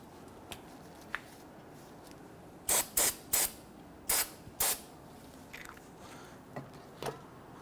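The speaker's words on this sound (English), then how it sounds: "Going to give that a spray with some solvent." Several short bursts of aerosol solvent sprayed on brake parts of a Nissan Frontier, hissing in quick pairs, close to the microphone, with faint clinks and handling noises around them.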